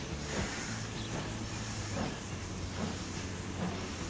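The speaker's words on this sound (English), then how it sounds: "We got the passenger train." A passenger train in Transport Fever 2 rolls past with a steady rumble and hiss and faint rhythmic clatter from the wheels. The sound is loud and continuous, with no talk.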